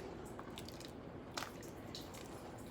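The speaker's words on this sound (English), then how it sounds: "Give it a good stir." Navy bean stew is stirred in a pot, a soft wet squishing and gentle sloshing over a steady background hiss, faint and close, with no talk.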